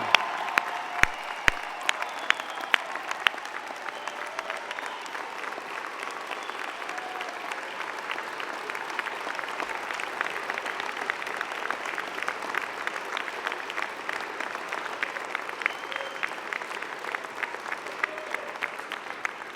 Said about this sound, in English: join me in applauding the amazing graduating class of June 2017